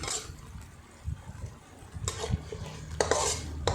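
A spoon stirs Thai curry paste simmering in a pan for a spicy pork belly and eggplant stir-fry, with soft scraping, scattered metal clinks and a faint sizzle, all close and without talk.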